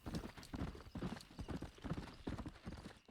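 Horse hooves clip-clop steadily on the ground in Red Dead Redemption: Undead Nightmare, a quick rhythmic trot of many hoof strikes, close and fairly quiet, with no voices.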